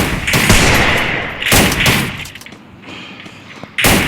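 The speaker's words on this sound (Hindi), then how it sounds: "अभी मेरे सामने बंदा है गोलियाँ एक साथ चला रहा है" Rapid bursts of automatic gunfire in the Free Fire video game, loud close volleys of shots with brief gaps between the bursts.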